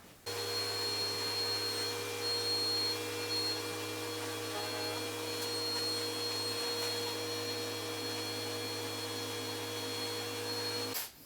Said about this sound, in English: I'm going to clean up all this mess, vacuum all this out